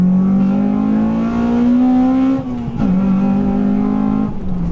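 A high-mileage Honda Civic Type R engine revs hard with a rising tone as VTEC engages, briefly dips at a gear change, then climbs again, loud and close with no talk.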